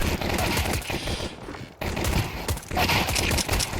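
Dense, rapid gunfire from the video game Counter-Strike 2 fills the match, with loud bursts and sprays that overlap and come close, then a brief lull before heavy shooting starts again.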